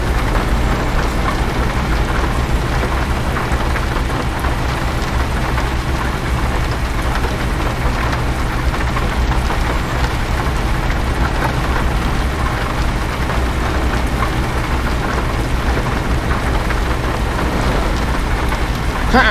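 Steady heavy rain with low rumbling thunder in a truck driving video game, a dense, continuous wash of sound without breaks, loud and constant with no voices.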